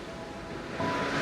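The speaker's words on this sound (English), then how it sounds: "The way the ocean moves." Ocean waves wash against cliffs in a brief, rushing surge that swells louder partway through, close and wind-tinged, with no voices.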